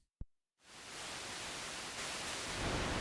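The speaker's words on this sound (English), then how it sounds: "we can check out the noise sound" GForce Oberheim OB-1 synthesizer noise source, a short tonal blip and pause followed by a steady, loud hiss of broadband noise that grows slightly brighter toward the end, with no talking.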